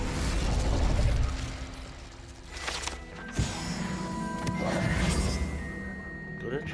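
An incendiary grenade goes off in a video game, a muffled burst followed by crackling, roaring flames and clattering mechanical sounds under a busy game mix.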